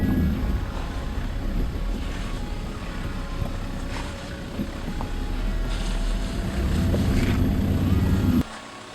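Ford Ranger ute engine idling up on a steep off-road slope, a continuous low rumble mixed with wind noise that swells slightly toward the end before cutting off sharply.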